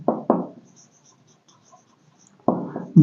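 A pen scratches out a Class 10 trigonometry solution in quick close bursts of writing strokes, with a long quiet pause between the first strokes and the last.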